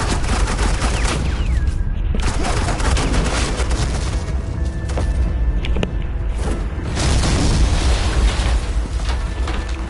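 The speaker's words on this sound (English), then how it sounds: "suppressing fire" Heavy suppressing gunfire in Batman: The Enemy Within: dense, loud bursts of rapid shots and booming impacts rattling continuously for the whole stretch, with mechanical clanks among the blasts.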